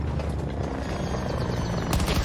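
A helicopter in the video game Battlefield 2042 gives a loud, steady rotor roar with rapid chopping pulses, briefly swelling louder near the end.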